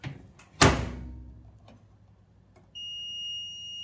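A microwave door thuds shut with a sharp knock, followed after a quiet pause by a single sustained electronic beep from an LG microwave, close by.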